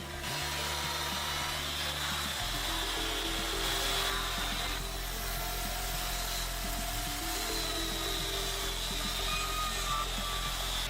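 A Husqvarna 572 XP chainsaw cuts through wood in a continuous, loud, high-revving whine with a steady rasping bite. The sound stays unbroken throughout, with only slight shifts in pitch.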